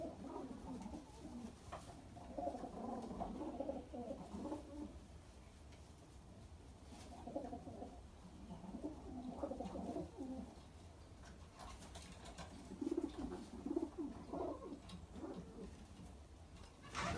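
Pigeons coo softly in an outdoor shelter aviary, with repeated low, throaty murmurs rising and fading over several seconds against a quiet background.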